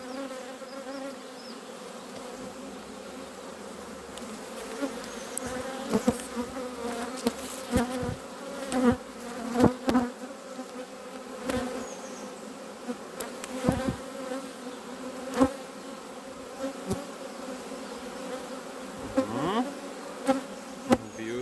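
Honey bees buzz close and continuously while a beehive is opened for inspection, with occasional knocks and bumps from handling the frames and no talking.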